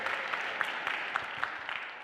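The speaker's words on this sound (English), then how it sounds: "How about a round of applause for everybody?" A crowd applauds with dense, steady clapping for a couple of seconds, a few sharper claps standing out.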